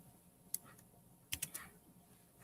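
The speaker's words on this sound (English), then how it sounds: "So this is just a lot of typing" Keystrokes on a computer keyboard while writing code, a few sparse taps followed by a quick cluster of three or four clicks, faint and close in a quiet room.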